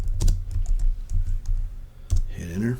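Close, loud clicks and taps on a computer keyboard during CAD work, coming in irregular bursts with a brief pause, followed by a short stretch of talking near the end.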